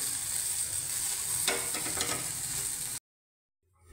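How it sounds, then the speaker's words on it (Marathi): Crispy chicken pieces sizzle in a frying pan and are gently turned, leaving a steady hiss with a short burst of scraping stir strokes before the sound cuts off abruptly. "ते खाली लागू नये म्हणून आपण हलकंच असं हलवून घ्यायचं"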